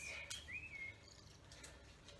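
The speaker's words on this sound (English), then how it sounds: "I don't know if you can hear that beautiful blackbird singing away to us." A blackbird sings in a garden, its faint clear whistled phrases sounding at a distance over quiet background ambience, a short burst of notes followed by softer chirps.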